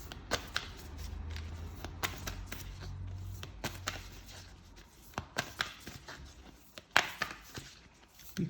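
A Les Vampires oracle deck handled and shuffled up close, with irregular papery riffles, taps and soft card slaps, some sharper clacks near the end, no talking.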